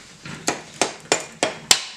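Light hammer taps seating a rear brake part on a Honda CRF50 dirt bike: six sharp, close knocks in quick, slightly uneven rhythm over about two seconds.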